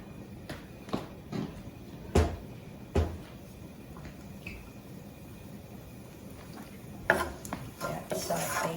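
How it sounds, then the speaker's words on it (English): Onion and peppers sauté in a pan with a soft, low sizzle, broken by several sharp clinks and scrapes of a utensil stirring against the pan. "So in the pan goes the onion and peppers."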